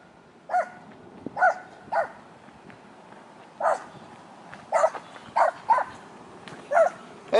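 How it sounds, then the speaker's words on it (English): A dog barks in sharp, separate bursts, about ten woofs in irregular groups, fairly close and loud over a quiet background. "We found a dog."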